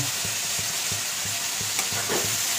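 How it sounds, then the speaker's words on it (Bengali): Spice masala of cumin, coriander, red chilli powder and ginger paste fries for potato dum, a continuous bright hiss with regular soft stirring strokes about every quarter second, close and steady, no speech. "এবার মশলাটা কষাবো, খুব সুন্দর করে কষাবো"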